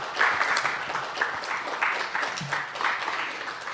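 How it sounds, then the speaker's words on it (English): Round of applause for visiting Burt Fox School students at an Orange Shirt Day gathering: moderate, steady clapping from an audience, somewhat distant and even throughout. "So let's give them a round of applause."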